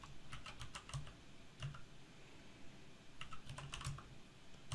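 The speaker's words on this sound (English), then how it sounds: "then type in Internships" Fingers typing on a computer keyboard in two quick bursts of crisp clicking keystrokes separated by a short pause, close and fairly quiet in a still room.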